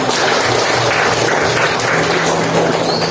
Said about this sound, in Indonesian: tepukkan untuk semuanya